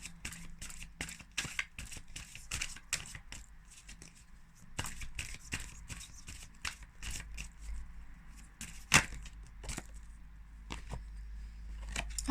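Tarot cards being shuffled by hand during a reading, a soft, quiet run of papery riffles and flicks with irregular rhythm and one sharper slap, close and alone.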